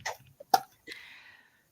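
A single sharp sneeze, close and abrupt, preceded by a brief sharp inhale and followed by a short breathy exhale.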